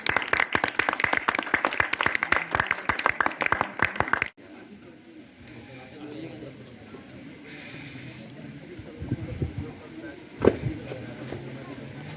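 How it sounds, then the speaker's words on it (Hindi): Farewell function audience clapping vigorously to welcome a guest manager onto the stage: loud, rapid applause for about four seconds that cuts off abruptly, followed by quiet room murmur and a few faint sounds. "उनके जोरदार तालियों से स्वागत कीजिए"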